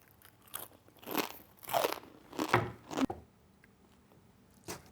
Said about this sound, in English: 누룽지, my snack.